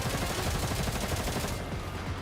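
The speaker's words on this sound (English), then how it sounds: "A ferocious wave of gunfire suddenly sweeps in from afar." Rapid gunfire in the video game Girls Frontline 2 comes in a dense, rattling volley of overlapping shots, loud and sustained, thinning out near the end.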